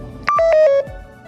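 A radio lets out a short electronic beep sequence: a few quick clear tones in descending pitch lasting under a second, close and loud against near silence.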